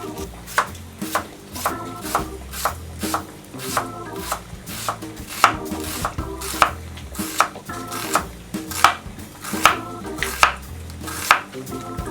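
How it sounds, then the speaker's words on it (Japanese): A knife chops onion on a cutting board, a steady series of sharp, evenly spaced taps, close and clear with no talking, while making pizza toast on sliced bread with cheese. "玉ねぎも切っておきます。"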